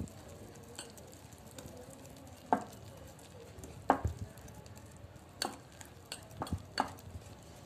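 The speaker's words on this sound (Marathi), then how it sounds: "एकाच दिशेने फिरवून मिक्स करायचं." Eggless mango cake batter being stirred in one direction by hand in a bowl, with soft scraping swishes and a few sharper clinks of the spoon against the bowl, fairly quiet throughout.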